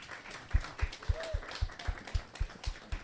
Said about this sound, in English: So if we could just kind of like give Liam a round of applause